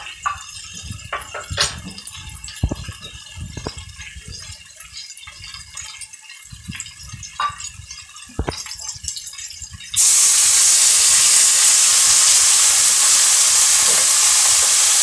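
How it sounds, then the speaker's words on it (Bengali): Water poured into a pan of frying vegetables sets off a loud, steady hiss of sizzling, preceded by a few seconds of softer crackling and stirring clatter. "এর মধ্যে আমি অল্প জল দিলাম এবং আদা জিরেগুলো সুন্দর করে একটু মিক্স করে নেবো"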